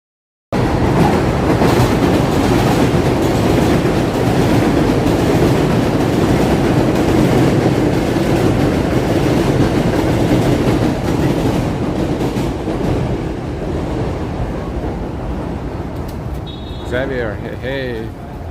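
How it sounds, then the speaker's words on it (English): An elevated subway train in Jackson Heights, Queens, rumbles past on a hot summer day with a loud, continuous roar and rattling of the cars that fades slightly near the end, where faint squeals appear. "Look, panorama of elevated subway."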